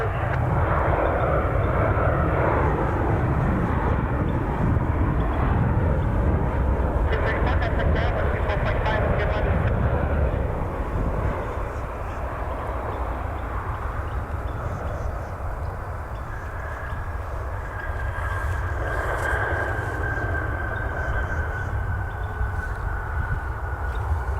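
A United Airlines Boeing 757-300 at Cleveland, flying a Browns charter, roars loudly and steadily with broadband jet engine noise that eases slightly midway, while a faint tonal whine rises later.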